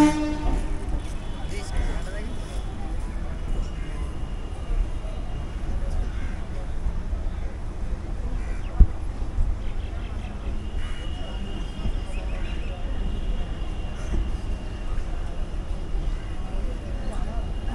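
A Sealdah–Canning local train runs along at speed, a moderate steady rumble heard from inside with one sharp knock partway through and people talking over it.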